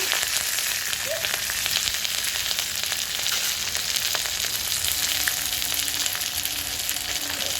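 Green chillies and curry leaves fry in hot oil, a steady, close, fairly loud crackling sizzle that runs unbroken from start to finish, with no one talking.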